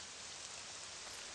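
Steady rain falls in the video game Morrowind, a constant, even hiss with no breaks and no voices over it.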